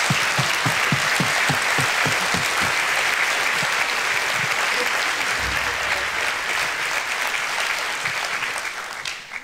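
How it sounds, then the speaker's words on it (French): A theatre audience gives loud, sustained applause for Christophe Lidon and his team at a season presentation, with a few sharp individual claps early on before the clapping fades slightly at the end. "Je vous propose de commencer par applaudir Christophe Lidon et toute son équipe formidable du cadeau."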